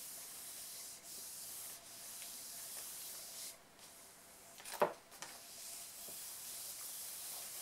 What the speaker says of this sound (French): Je frotte avec le plat de la main.